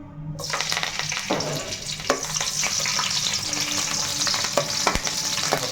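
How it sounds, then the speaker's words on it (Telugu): Green chilies frying in curry oil in a wide kadai, a steady bright sizzle with scattered crackles and pops from the pan, close and continuous without any voices. "మనకి కర్రీకి సరిపడ్డ నూనె అయితే వేసుకున్నాను ఇప్పుడు పచ్చిమిర్చి అయితే వేసుకుందామండి"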